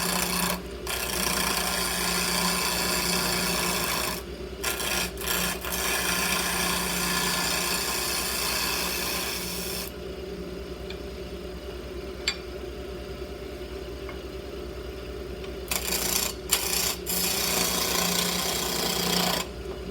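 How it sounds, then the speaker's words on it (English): Wood lathe spinning table leg stock for turned feet, a steady loud rumbling whir with a low hum, broken by scraping tool contact and a few pauses where the cutting quiets. "Okay, here we are at the lathe."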